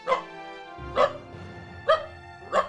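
A dog barks four times at a steady pace, each bark short, close and clear, with quiet gaps between them.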